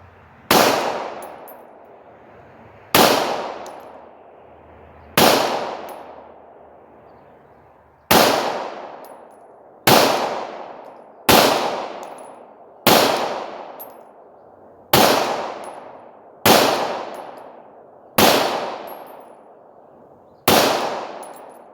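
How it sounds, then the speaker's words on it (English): Eleven loud, sharp pistol shots from a Beretta 92 M9 fired single action at a 50-yard range, spaced a couple of seconds apart, each with a ringing echo that decays before the next. "I'm gonna shoot it straight from single action"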